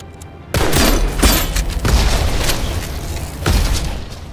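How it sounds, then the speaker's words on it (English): Loud shotgun blasts fired in the video game Aether & Iron, with a sharp boom at the start, another soon after, and further heavy bursts through a dense, noisy combat mix. "Let's shotgun this guy."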